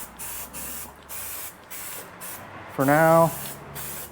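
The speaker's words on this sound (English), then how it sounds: "we'll just spray the whole block down here real good" Repeated bursts of aerosol spray coat a Ford FE engine block with protectant, loud hissing pulses about every half second, with someone briefly talking partway through.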